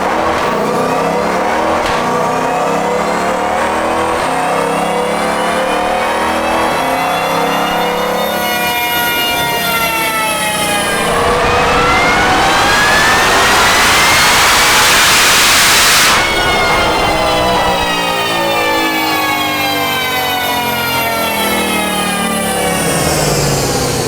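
A Ford Bronco engine runs at full power on a dyno, rising through a long sustained rev sweep with loud roaring harmonics, a brief shift, then climbing again before backing off, no talk.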